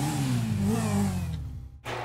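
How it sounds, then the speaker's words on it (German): Engine note of a yellow motorcycle in GTA V, a steady mid-pitched drone that rises briefly and then falls away, stops abruptly near the end and resumes at once, with no talking. "Dann wollen wir mal eine kleine Tour machen mit unserem schönen Motorrad."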